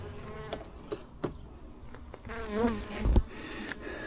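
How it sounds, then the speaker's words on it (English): Honey bees buzz and hum up close around an open hive in a busy, wavering drone, with several individual bees flying past the mic. "Bees on everything else."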